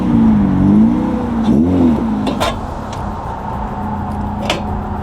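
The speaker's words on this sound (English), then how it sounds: "I'm gonna go in reverse a little bit here, and then I'm gonna hit the brakes." A car's engine idling and revving as it reverses a short way and brakes, with a whining pitch sweep early on and a few brief clicks and knocks, close and steady.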